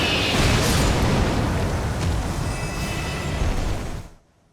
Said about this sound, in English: can fly up into the air and then dive bomb back down with an ult that deals a lot of AoE damage